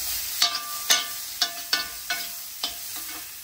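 Pork fried rice with egg being stir-fried in a vintage cast iron wok: a spatula scrapes and clacks against the metal in sharp strokes about every half second over a steady low sizzle, close and alone.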